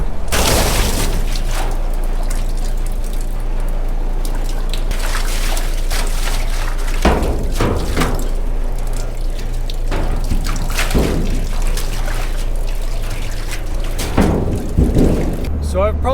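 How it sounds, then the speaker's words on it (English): Maple sap gushes from a syrup operation's holding tank and splashes onto the ground, a steady loud wash of liquid with a low hum underneath and someone talking over it. "I'm just going to splash them in and let most of this go down first"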